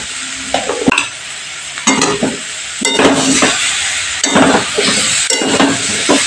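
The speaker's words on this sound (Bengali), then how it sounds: "এবার মশলাটাকে আমি অনেকক্ষণ ধরে ভালো করে কষিয়ে নিচ্ছি" Spice masala is stirred and fried in a pan for a Bengali broccoli vegetable dish: a steady sizzle with repeated scraping strokes of a spoon against the pan, loud and close, with no talking.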